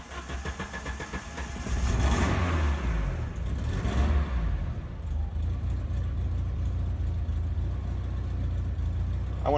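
A car engine pulling into a garage on Maui catches and revs up, then settles into a steady, fairly close idle hum that runs on to the end.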